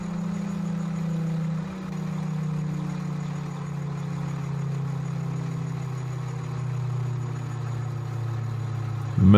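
Steady car engines of road traffic in the EmergeNYC emergency-response video game, a continuous low idling drone that holds evenly throughout, with a louder burst right at the end.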